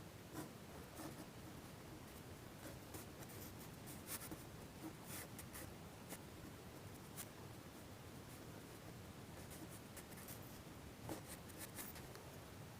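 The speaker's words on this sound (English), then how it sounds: "as you're laying down your marks in ink" A pen laying down ink lines on paper while sketching a London street, a quiet continuous scratching and rubbing with faint tapping strokes throughout, close and soft with no voice.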